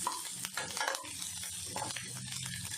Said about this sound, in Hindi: और इसको अच्छे से सॉटे कर लेना है।